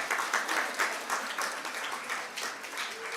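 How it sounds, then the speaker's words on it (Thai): Audience applause at a business seminar, a steady patter of many hands clapping fairly quietly for a few seconds with no talking over it. "ปรบมือดัง ๆให้กับตัวเองได้เลยครับ"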